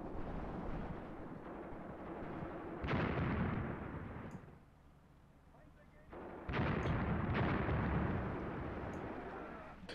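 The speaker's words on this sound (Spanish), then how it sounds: "Empezamos a usar nuestros morteros, por lo que veo, la artillería hacia este lado" Mortar and artillery fire in Graviteam Tactics: two heavy, rumbling barrages of blasts, the first short and the second longer and louder, with quieter battlefield rumble between them.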